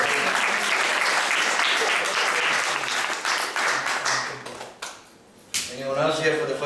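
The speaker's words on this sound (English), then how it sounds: "Let's give a round of applause." Dense audience applause at a Sunday class in an ISKCON temple in Atlanta, loud and steady for about five seconds, then briefly thinning before a fresh burst, with voices murmuring underneath.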